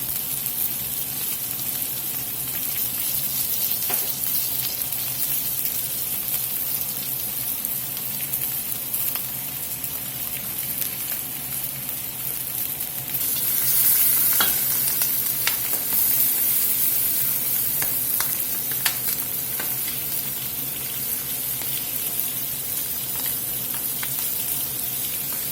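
Butter and thyme sizzle in a pan with blackened salmon fillets, a continuous loud frying hiss that swells briefly partway through, with occasional faint clinks and no talking.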